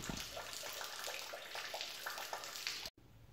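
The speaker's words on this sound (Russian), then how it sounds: "сейчас уже более-менее чистая у меня вода сливается" Water gushes steadily onto a garage floor as a flush of a 2004 Land Cruiser 100's cooling or transmission system drains away, a continuous close splashing rush that cuts off abruptly near the end.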